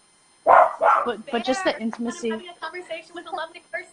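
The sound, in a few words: dog barking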